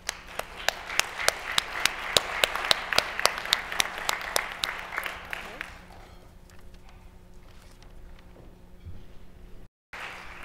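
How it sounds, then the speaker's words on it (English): Audience applause for PSA contest finalists at a health conference, a burst of crisp, rhythmic claps that thins out after several seconds, giving way to quieter room sound and faint voices. "let's have a big round of applause for our PSA finalists"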